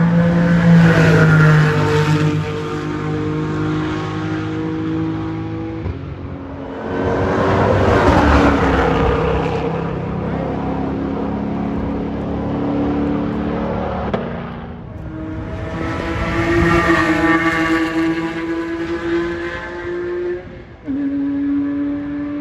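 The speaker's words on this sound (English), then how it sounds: "Porsche squad rolling up to the track." Porsche cars roll up to a race track, engines droning and revving in long swelling passes that rise and fade, loud and close with no talking.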